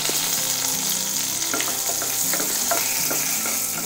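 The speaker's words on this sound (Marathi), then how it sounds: "आता मी कढीपत्तो आणि लसूण फोडणीत घालतोय" Curry leaves and finely chopped garlic sizzle in hot oil for a Malvani tempering, a loud, continuous close-up crackle with sputtering bursts and some stirring, no voices.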